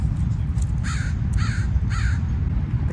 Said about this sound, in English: The crows are yelling at me.